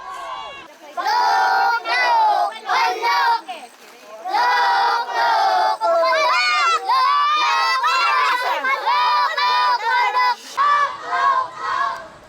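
Villagers shouting together in unison as a cheer at a Philippine village tug-of-war, a loud crowd of raised voices in repeated bursts with brief pauses throughout.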